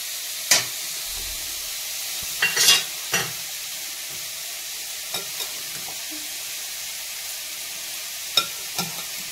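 Meat fries with spices in a pan, giving a constant close sizzling hiss broken by a few scraping knocks as it is stirred, with no voices.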